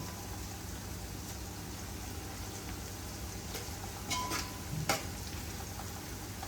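Onions fry in oil in a pan for biryani, giving a steady low sizzle with a few louder spatters and stirring scrapes late on.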